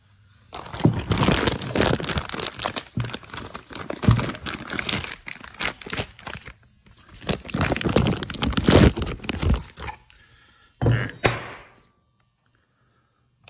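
A new brake caliper bracket for a rat rod is unpacked: loud, close crinkling and rustling of plastic packaging in bursts with short pauses, ending in a final crackle before silence.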